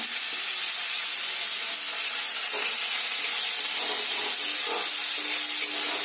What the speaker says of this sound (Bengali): তেলটা গরম করা হয়ে গেলে তাতে দিয়ে দেবো আলু কুচনো